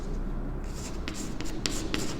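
Marker or chalk writing on a board during a coordinate geometry lesson, a few short scratchy strokes and taps close by over a low room hum, with no talk.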